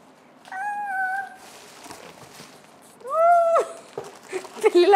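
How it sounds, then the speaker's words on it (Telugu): A cat meows twice, a short clear cry early on and a louder rising one later, close by, with faint room noise and soft talk around it. "పిల్లలానే అరిచింది."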